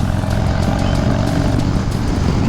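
A Harley-Davidson Low Rider S 114 cruiser rumbles loudly up close, a deep, throbbing exhaust idling steadily with a lumpy, uneven beat.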